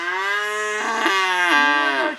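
A young calf moos twice in close succession, a loud, close, drawn-out bellowing call with a falling pitch at the end, no other sounds.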